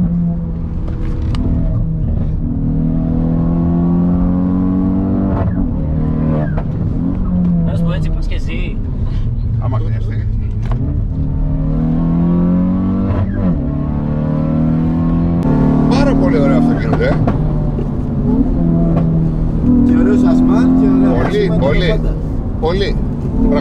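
A car engine hums and revs as it drives and accelerates, rising and falling in pitch, with people talking over it.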